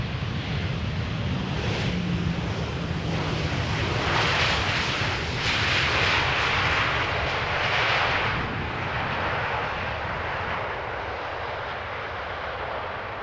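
A Boeing 737-900 airliner landing on runway 18R at Amsterdam Schiphol, a loud sustained engine roar and rushing wind heard from nearby that swells mid-pass and then slowly eases, with no talking.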